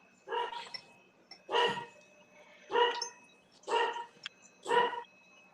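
A dog barks five times in a steady, evenly spaced series, each bark loud and close, with a quiet indoor background between them.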